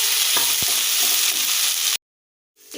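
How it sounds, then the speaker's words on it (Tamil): Mint leaves sizzle and crackle in a hot pan with a scrape of stirring, the sound cutting out abruptly and then returning. "இது ஒரு 2 நிமிஷம் நல்லா வதக்கி எடுத்துக்கணும்."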